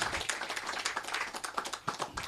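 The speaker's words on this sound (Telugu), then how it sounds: "మరొకసారి వారికి చప్పట్లు కొడదాం." A church audience claps for a pastor, a dense, fairly quiet patter of many hands that continues evenly, with a brief dip near the end.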